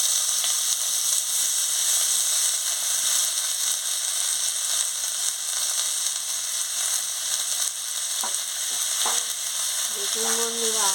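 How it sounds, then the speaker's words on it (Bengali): Vegetables fry in hot oil in a wok while dal with vegetables is cooked, a loud, steady sizzle throughout with a few faint clinks of stirring near the end. "তেল গরম হয়ে গেছে, এবার আনাজগুলো দিয়ে দিচ্ছি।"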